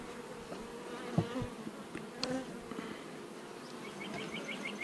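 Bees from an open beehive drone in a soft, continuous buzz, close but quiet, with a few faint knocks and clicks from handling the frames and no speech.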